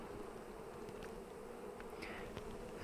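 Honey bees swarm around a nuc hive as it is being installed, their dense, steady buzzing filling the air up close without a break, with a few individual bees droning past now and then.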